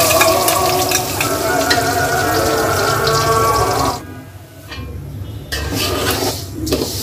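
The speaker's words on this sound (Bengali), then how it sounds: "এখন দিয়ে দিব পেঁয়াজ কুচি।" Chopped onion drops into hot oil with whole garam masala spices for a biryani and fries with a loud, close, hissing sizzle and stirring, then goes briefly quieter before the frying noise returns, with no voices.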